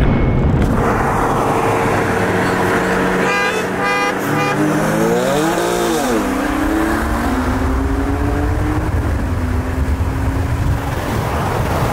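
A BMW M140i races a McLaren 570S supercar, with loud, steady engine roar throughout and rising, sweeping pitch as the engines rev and shift through gears at speed.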